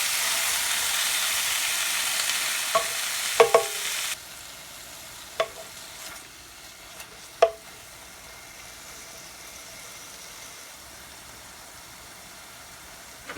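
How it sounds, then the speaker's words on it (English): Fresh spinach sautéing in a pan, a steady hiss of frying that drops sharply partway through, with a few isolated utensil clicks and taps against the pan, close by and with no voices. "we have our spinach all sauteed all nice"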